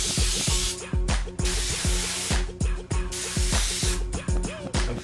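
An airbrush hisses in steady bursts, with short pauses between sprays and a rhythmic low mechanical pulsing beneath.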